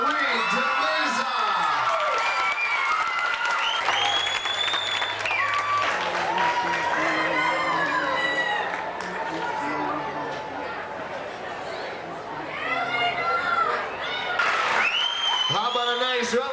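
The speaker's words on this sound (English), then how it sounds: "How about a nice round of applause for our Mrs. Willowicks and their contestants." A festival crowd applauds and cheers after a pageant winner is announced, sustained clapping with whoops and shouts rising and falling, and a voice speaking over a PA partway through.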